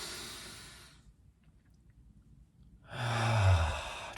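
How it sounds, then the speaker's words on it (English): A slow, deep exhale fades into quiet, followed by a long breath drawn in and then released as a heavy sigh, close and soft during a calm guided hypnosis session. "One last time, deep breath in."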